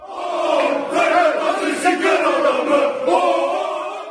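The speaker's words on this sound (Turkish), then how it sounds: "otobüsten iner inmez doping yapsana tezahüratı yaptı" Fenerbahçe supporters chanting a taunt in unison at basketball coach Ergin Ataman as he steps off a bus, a loud, dense crowd roar with rhythmic shouted syllables that swell and pulse steadily throughout.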